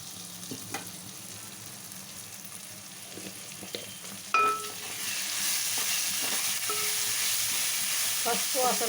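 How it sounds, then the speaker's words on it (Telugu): Half a spoon of turmeric frying in oil while making gongura tomato curry, a soft sizzle with a few utensil clicks that swells into a louder, steady hiss midway. "పసుపు వాసన లేకుండా ఆయిల్లో ఫ్రై అవ్వాలి."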